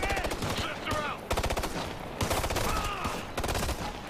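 Rapid automatic gunfire in the video game Ghost Recon, loud and close, firing in sustained bursts with brief gaps, with a voice faintly mixed in.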